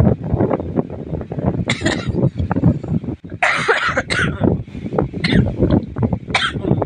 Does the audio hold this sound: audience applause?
no